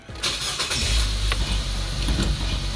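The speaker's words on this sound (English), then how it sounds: "start the car." 2012 Nissan Versa SV 1.6L engine cranking and catching, a brief starter whir followed by a steady, close idle rumble.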